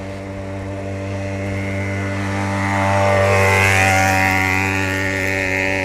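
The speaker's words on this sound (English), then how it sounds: "There's a moped coming behind us." Moped engine passing behind a bicyclist on a street in Oulu, Finland, a steady buzzing drone with strong harmonics that swells as it draws nearer, then holds close and loud without any talk.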